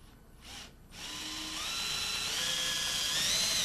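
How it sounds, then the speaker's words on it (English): A power drill with a brad point bit whines steadily, rising in pitch and staying loud and close for a few seconds after a brief start-stop at the beginning, drilling angled holes in plywood. "Make sure you drill in at an angle here"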